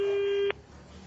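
A telephone busy tone after a call is hung up: a single steady electronic tone holds for about half a second and then cuts off abruptly, leaving faint background hiss.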